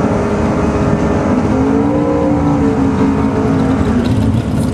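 Drag race cars launch together in the second round's first pair of top cars at a 2014 VMP St. Patty's event, one lifting into a wheel stand in the right lane; a loud, continuous, rising engine roar fills the whole stretch.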